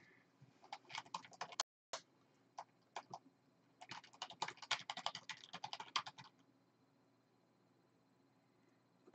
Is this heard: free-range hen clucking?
no